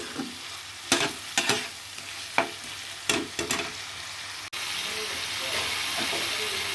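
Spice masala sautéing in oil with bay leaves for dhaba-style handi chicken, a sizzling pan broken by several sharp stirring scrapes, then a steady loud hiss of frying.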